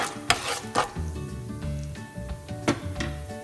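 Cashew nuts sizzling as they fry in a home kitchen pan, with bright crackles and a few sharp stirring clanks over a steady frying hiss.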